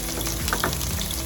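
Onions and dried chillies sizzle steadily in hot oil, a close, continuous crackling fry with a few sharper pops, heard briefly and alone.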